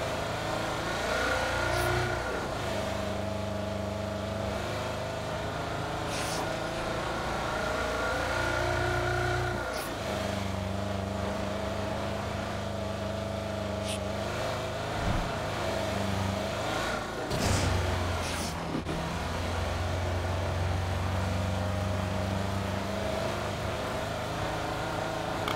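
Car engine in the game PUBG, droning steadily and revving through gear changes while driving, loud and continuous with a few bumps and knocks, no talk.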